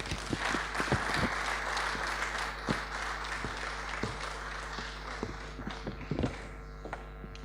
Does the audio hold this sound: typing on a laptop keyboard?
no